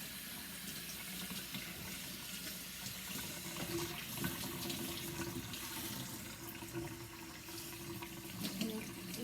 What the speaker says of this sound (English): So now I'm rinsing all that soap off.